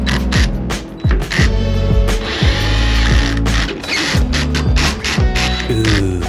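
A power tool drives and tightens the truck bed rail bolts on a 3rd gen Tundra fitted with Molle panels, heard as loud, close ratcheting bursts in quick repeated pulses.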